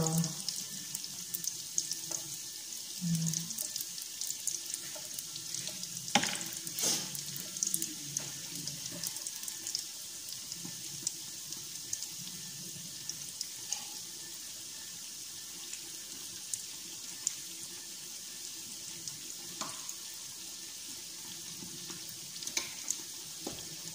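Steady hiss of food frying in a pan for a long stretch, with occasional clinks and a brief low murmur of voices.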